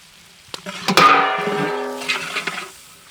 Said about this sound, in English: 5 minutes saute on high flame